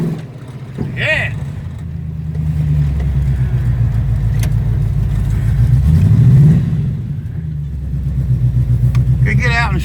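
A 1973 Oldsmobile Omega with a newly replaced belt runs steadily with a low, continuous engine rumble, rising briefly as it revs, while people talk over it outdoors.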